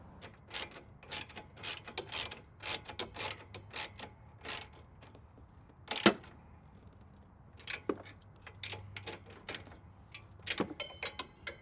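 Ratchet fastening transmission cooler bolts on a Duramax truck, repeated rapid clicking bursts in short runs with pauses between, close and fairly quiet in a workshop.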